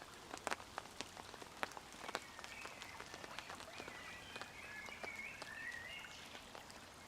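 Rain pattering steadily on a waterproof shelter at a solo forest camp, quiet and close, with scattered heavier drops standing out and faint chirping in the background, no voices.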